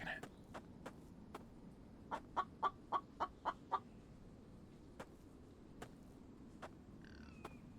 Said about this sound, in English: Also, I heard another chicken.